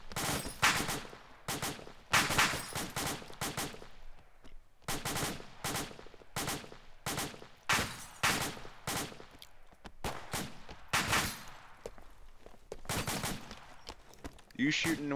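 Repeated gunfire bursts from the video game ArmA II, sharp rapid volleys and single shots spaced across the clip, loud and close, with brief gaps between salvos.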